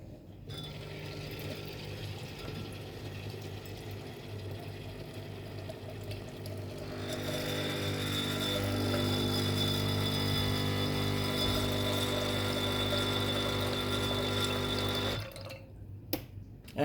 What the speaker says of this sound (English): the best way to preheat this is simply run a shot of water through it.